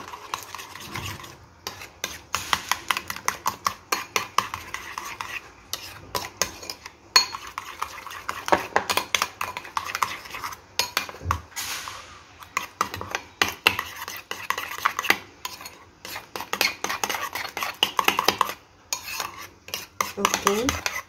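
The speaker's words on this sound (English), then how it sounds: "then let's mix it" Tofu sisig ingredients with ground black pepper stirred in a pan, a close, busy run of utensil scrapes and clanks against the metal, irregular and continuous, without speech.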